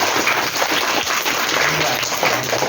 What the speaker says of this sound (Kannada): ಹರ್ಷಿತಾ ಮತ್ತು ದೀಪಿಕಾರವರಿಗೆ ಜೋರಾದ ಚಪ್ಪಾಳೆಯೊಂದಿಗೆ